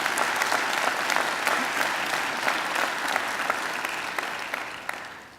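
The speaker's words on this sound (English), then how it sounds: "Please give them a great round of applause." Steady applause from a crowd at a university graduation ceremony in a hall, dense clapping that fades slightly toward the end.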